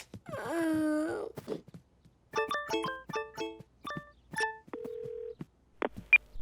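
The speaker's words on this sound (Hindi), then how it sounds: "क्यों ना हम फ्लॉप को फोन लगाएं" A telephone is dialed in a Bing cartoon: a long groaning wail opens, then a rapid run of clear electronic keypad beeps in uneven bursts, one steady held tone, and a couple of sharp clicks at the end.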